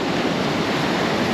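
Surf breaking at Kitty Hawk on the Outer Banks, a steady broad rush of ocean waves with some wind, moderately loud and unbroken for a brief moment.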